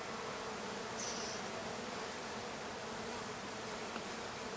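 A large colony of honey bees buzzes at a hive in an abandoned chicken barn, a dense, continuous droning hum filling the whole stretch, close and steady, with a brief sharper buzz of a single bee passing.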